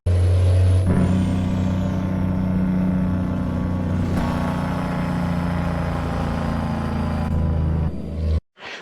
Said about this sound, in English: I'll put a clip of Jake brakes in